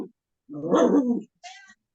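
A cat gives a short, clear meow, with a brief fainter sound trailing after it in an otherwise quiet setting.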